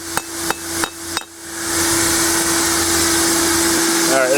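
Hand hammer strikes hot metal while forging a spoon: four sharp, ringing blows in quick succession, then a steady blower or fan roar fills the rest under a constant hum.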